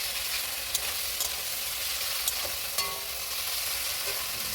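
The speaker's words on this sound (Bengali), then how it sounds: "এবারে 5 মিনিট মতন নাড়তে থাকুন, যতক্ষণ না আদা রসুনের গন্ধটা যাচ্ছে।" Ginger-garlic paste with tomato sizzles steadily in hot oil in a pan for khichuri, a loud continuous frying hiss with a few faint clinks of stirring.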